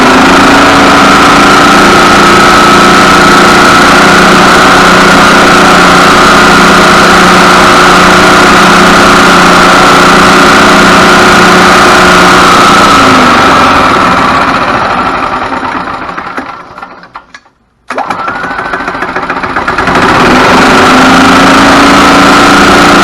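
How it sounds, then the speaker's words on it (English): A heat-soaked golf cart engine runs loud and close, droning steadily before it stumbles, fades and cuts out for a moment, then sputters back to life. "Got a little heat built up in it this time, and that's where it's been acting up most of the time"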